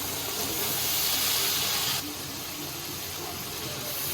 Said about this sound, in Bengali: এখন আমি আগে থেকে পরিষ্কার করে রাখা মাংসের পিসগুলো দিয়ে দিচ্ছি।